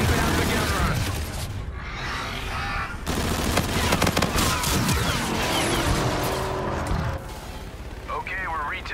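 Aircraft gun-run fire in the shooter game Call of Duty: Infinite Warfare: sustained loud bursts of heavy automatic gunfire and impacts, with radio-style voices talking over the barrage at points.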